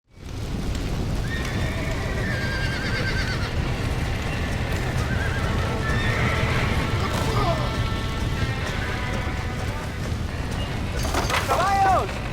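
In the video game Red Dead Redemption, several horses whinny and neigh amid a busy, noisy scene, with hooves clip-clopping and a loud rising whinny near the end.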